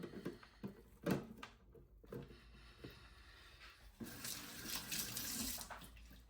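Tap water runs into a sink while hands are wetted during sourdough coil folding, a steady close stream swelling louder in the last couple of seconds after a few brief splashes and handling knocks.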